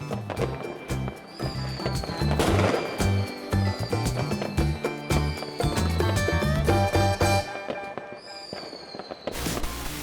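Fireworks crackle and pop over music, with rising whistles and scattered bangs throughout.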